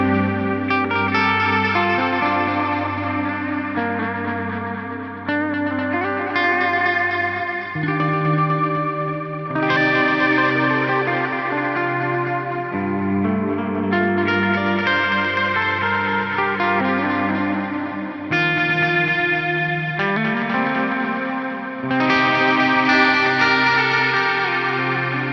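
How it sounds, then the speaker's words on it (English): Electric guitar through a diffused, Plex-style delay on an Axe-FX III, sustained chords and notes washing into dense repeating echoes, loud and continuous with shifting harmonies. "Now this is starting to sound kind of like the Plex delay block in the Axe-FX 3"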